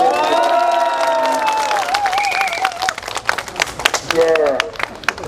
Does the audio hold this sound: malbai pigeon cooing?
no